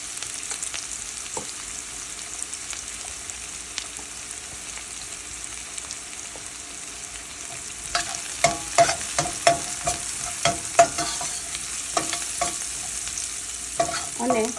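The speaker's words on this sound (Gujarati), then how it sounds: "અને થોડી વાર કાંદો ચડવા દઈશું" Chopped onion sautés with turmeric in a pan over a very low gas flame, a steady faint sizzle that later gives way to repeated close scraping stirs, no speech.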